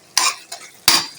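Bread halwa in ghee being stirred and broken up in a pan, with three quick scraping strokes of a spoon against the metal, the first and last louder, close and with no voices.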